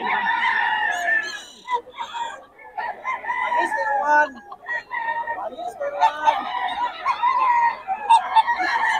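A bullstag rooster at the Bocaue tiangge market crows loudly and repeatedly at close range, with overlapping calls from other fowl and faint voices of people in the background.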